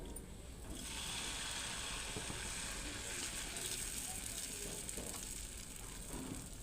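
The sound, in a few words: dosa batter sizzling on hot pan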